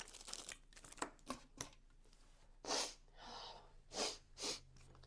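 A single sneeze, fairly close, followed by a few sniffs and short breathy noises, with some soft rustling earlier.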